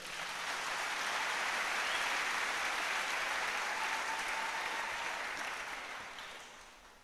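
Church congregation applauding during a sermon: a full, sustained burst of many hands clapping that swells quickly, holds steady, then tapers off toward the end.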